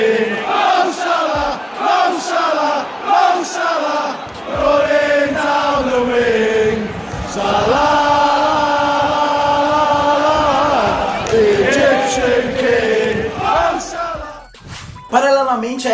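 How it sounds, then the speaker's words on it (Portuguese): Liverpool supporters chant a song honouring Mohamed Salah, the crowd's voices rising together in loud, sustained melodic lines that rise and fall for most of the stretch before breaking off near the end. "a torcida, que até criou uma música em sua homenagem"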